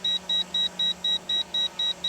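A Visuo Zen K1 brushless folding quadcopter drone emits nine short, evenly spaced high-pitched beeps in a quick steady rhythm, loud and close.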